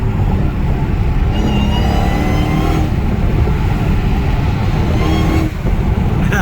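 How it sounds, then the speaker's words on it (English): A Dodge Scat Pack's supercharger whines through a loud, sustained roar of hard acceleration heard from inside the car, with rising pitched whine over dense engine and road noise. "Y'all hear that supercharger, man? Whining like crazy."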